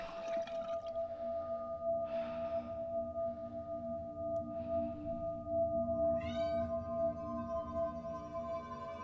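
A cat meows a few times, soft and drawn out, over a steady low hum.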